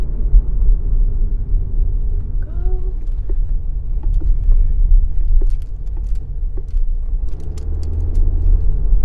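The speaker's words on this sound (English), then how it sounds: "this traffic is rambunctious" Road traffic rumbling past amid nearby construction, a heavy low drone that swells and fades, loud and steady, with a few faint clicks and rattles over it and no talk.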